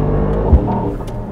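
A Mercedes-AMG GT 63 accelerating, its engine giving a loud, steady, close-up drone with a deep rumble that holds through the whole second and a half.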